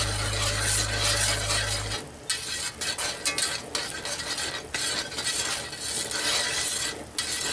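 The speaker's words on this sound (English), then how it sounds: "Just stir that in and we'll let it simmer down till consistency is about right" Gravy being stirred in a cast iron pan, a utensil scraping and clattering against the iron over a steady bubbling sizzle, close and continuous after a low hum at the start.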